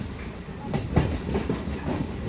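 A MEMU commuter train runs from Bengaluru to Kolar, heard from on board as a steady low rumble with rhythmic wheel clacks over the rail joints.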